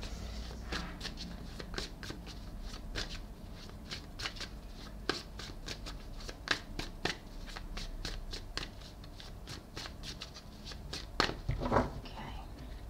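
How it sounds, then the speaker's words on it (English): Playing cards being shuffled and drawn from a deck for a weekly advice reading, a rapid run of crisp riffling clicks and flutters close by, ending in a louder burst of shuffling. "let me just pull some cards here"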